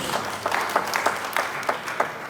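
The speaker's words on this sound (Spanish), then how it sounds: "Gracias por esos 3 aplausos." Scattered audience applause at a church sermon by a pastor, with a few brief bursts of clapping breaking through a steady room murmur.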